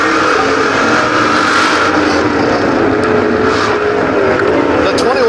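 Sprint cars race down the back straightaway of a dirt oval at Waco, Texas, a steady dense engine roar filling the scene under continuous commentary.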